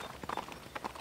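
Horse hooves clip-clop in a short uneven run of close, distinct beats, approaching in an audiobook scene with no voice over them.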